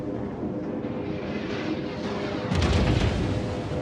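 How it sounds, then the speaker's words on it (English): Distant naval gunfire from destroyers in a World of Warships battle, an American Tier VIII destroyer setting: a low rumbling sustained boom that swells into a heavier blast midway, with no talk. "Wait, where'd those shots come from?"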